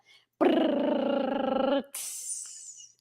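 A dog lets out one long, sustained growling bark at close range, followed by a high whining tone that fades out.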